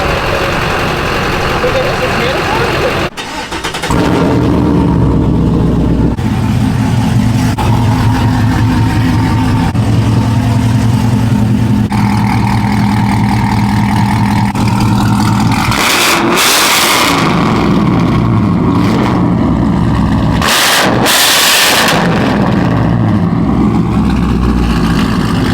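A 6.2L Chevrolet Silverado pickup with a loud exhaust, idling with a deep rumble and then revving in several sharp, roaring bursts, close and very loud, with people talking faintly in the background.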